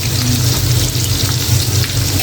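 Steady, loud sizzling of food frying in a hot pan, continuous with no pauses or voices.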